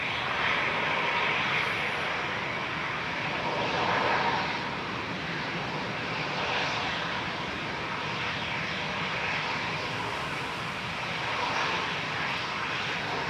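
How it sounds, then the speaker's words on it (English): Etihad Boeing 787-9 Dreamliner landing over the runway threshold at Manchester Airport, a steady broad roar of jet engines overhead, fairly loud and unbroken with slight swells. "Etihad coming over the threshold. Flight 75 from Abu Dhabi, A6BMB, 787-9 Dreamliner"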